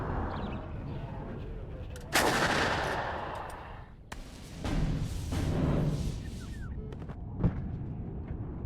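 Artillery fires in the WARNO real-time strategy game, with heavy booming shots and explosions, one sharp blast then a longer rumbling barrage and a later distant thump, over a continuous battlefield background.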